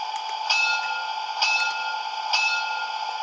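A DCC sound decoder in an LGB Stainz model locomotive rings a bell, three evenly spaced electronic dings about a second apart over a steady tonal hum.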